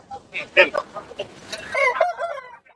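A rooster crows nearby at an outdoor livestock market in Erode, India, a loud rising-and-falling call, with clucking and other fowl noises around it.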